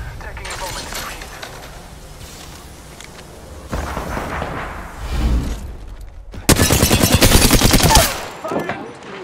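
Rapid bursts of automatic gunfire in Apex Legends, loud and close, mixed with game voice lines and effects, the heaviest volley near the end.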